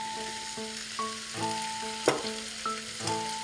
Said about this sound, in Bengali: গুড় দিয়ে আমি নেড়ে নিব